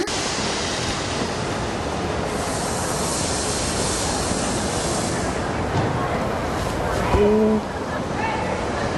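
Train waiting at a station before departure, a broad steady rumble and hiss with a brief tonal whistle-like sound near the end, people talking over it.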